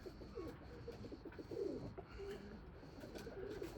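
Domestic pigeons, including white breeding birds, coo softly in a loft, several low rounded calls scattered over a steady background hiss, fairly faint and close.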